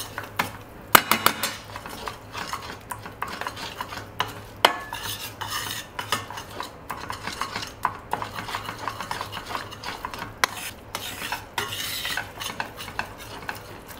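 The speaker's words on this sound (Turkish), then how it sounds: "Kokusu çıkana kadar onu kavuracağım" An ingredient is dry-roasted in a pan over low heat, with constant close spoon scraping and metallic clinks against the pan over a faint steady sizzle, busy and irregular throughout, without speech.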